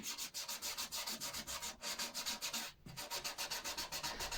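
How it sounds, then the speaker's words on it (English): Guitar fretboard being wet sanded with a sanding sponge in fast, even back-and-forth rubbing strokes, a steady rhythmic scratchy swish repeating about four times per second, close and clear with one short pause. "I did this by wet sanding it with finer and finer grids of sanding sponges"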